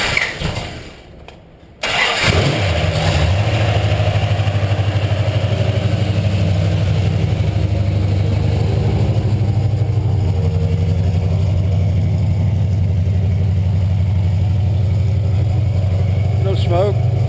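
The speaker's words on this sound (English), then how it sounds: "we're about to do a cold start, and engine is dead cold, and it's just about to fire" A dead-cold 1966 Dodge Charger V8 cranks briefly and fires, then settles into a loud, steady, deep rumbling idle up close with a strong exhaust note, running continuously to the end.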